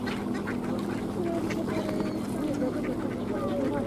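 Wintering ducks on a pond at Tsarskoye Selo quack repeatedly over a constant outdoor background, several birds calling near and far amid a busy crowd's murmur.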